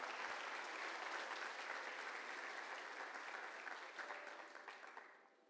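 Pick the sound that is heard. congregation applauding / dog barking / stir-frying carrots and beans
congregation applauding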